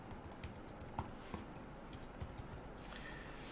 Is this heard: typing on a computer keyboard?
yes